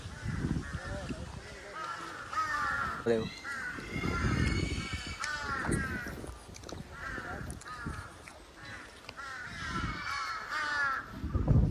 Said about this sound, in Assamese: ইমান কাউৰীয়ে কা কা কৰি থাকে।